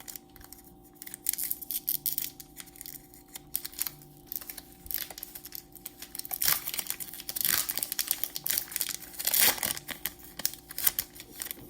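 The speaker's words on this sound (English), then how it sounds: "Our second pack that we're going to pop open, again, my trusty scissors, give us a little snip" Several sharp crinkly snips and rustles as scissors cut open a plastic-wrapped BBM 2020 baseball card pack close by, irregular and crisp, with a denser burst of cutting and crackling near the end.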